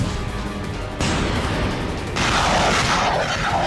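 Russian artillery fire and missile strikes pound Ukraine on the last day of 2022, a dense, continuous roar of booms and blasts that steps up twice, growing louder and fuller with no voices.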